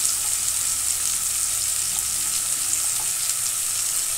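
Pumpkin, potato and onion sizzle steadily in hot oil in a pan for a Bengali-style kumro aloo tarkari, a continuous close frying hiss with no voices.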